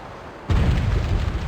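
A sudden heavy boom of ship cannons and rockets firing in a pirate naval battle game, a sharp onset followed by a sustained rumbling blast.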